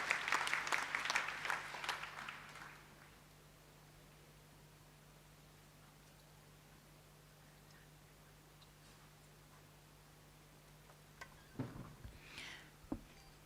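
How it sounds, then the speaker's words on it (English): A brief burst of clapping from a small group at a national commemoration event in Kenya fades into quiet room hum, with a few faint knocks and rustles near the end. "Please give a hand clap to Karen as she comes."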